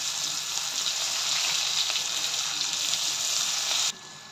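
Chopped onions frying in a pan for a mushroom masala curry, after cumin and turmeric have gone in: a steady, loud sizzle that holds evenly and then drops off sharply near the end, with no talking.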